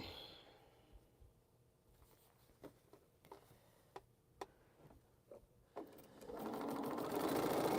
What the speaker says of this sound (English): The half square triangle on here, like so. And just sew it.